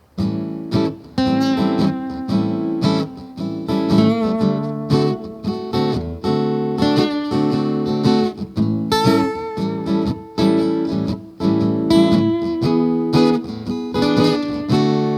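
Electric guitar plays bluesy lead lines over a steady rhythm backing, with bent, wavering notes, loud and continuous throughout.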